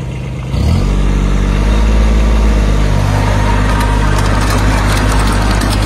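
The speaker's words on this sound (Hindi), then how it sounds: "ज्यादा धड़क रहा रोटावेटर" Swaraj 855 tractor in low third gear driving a 3-foot Baba rotavator, a loud steady close engine drone with a deep low rumble that starts up after a brief quieter moment and holds without talk.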